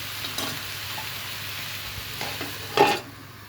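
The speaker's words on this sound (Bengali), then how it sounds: "সবজিটা কষানো এবং ভাজা হয়ে গেছে" Mixed vegetables with mukhi kochu and mung dal sautéing in a pan, a soft steady sizzle with occasional stirring scrapes and one louder scrape near the end, close by, no voices.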